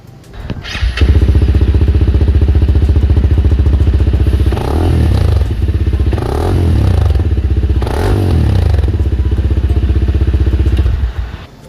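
A 2021 Honda CRF300L motorcycle engine idles loudly and steadily close by, revved a few times in the middle before settling back and cutting off.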